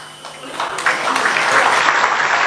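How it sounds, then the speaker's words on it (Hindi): An audience breaks into applause during a political speech about Ambedkar and India's Constitution, clapping that swells quickly and holds steady over a few seconds. "अभी आप ताली बजा रहे हैं, ताली मत बजाइए"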